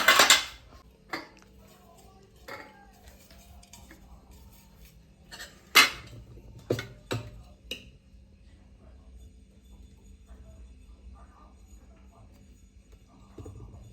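Metal idli steamer pots and utensils clank and clink in a few sharp bursts as the pots are filled, separated by quiet stretches with faint kitchen noise.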